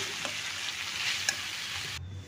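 Fenugreek leaves fry in a pan with a steady soft sizzle and occasional light stirring scrapes, close and fairly quiet, cutting off abruptly at the end.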